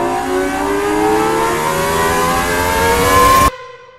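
Cosworth engine of the Gordon Murray T50 hypercar revving, a loud high-pitched wail climbing steadily in pitch for several seconds before cutting off sharply, close and alone.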